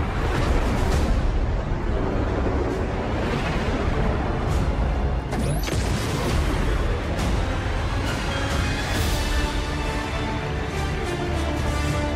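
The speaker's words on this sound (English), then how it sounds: "You can shoot laser turrets with your spaceship" Spaceship laser turrets firing in the Star Wars Outlaws video game, a dense, steady barrage of blasts and booms layered over a constant rumbling mix, with bursts repeating throughout.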